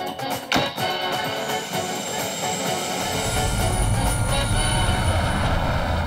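A helicopter in flight, a steady loud rotor and engine roar that grows heavier and fuller after a few seconds.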